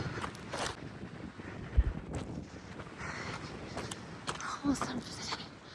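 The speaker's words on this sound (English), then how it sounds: "Crazy windy." Strong gusting wind at Carson Pass on the Pacific Crest Trail buffets the microphone in uneven bursts, with faint footsteps and scuffs and occasional thumps.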